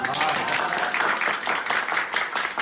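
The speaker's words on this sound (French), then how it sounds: "Applaudissements." Audience applause at a brand launch event, a dense, close patter of many hands clapping continuously throughout.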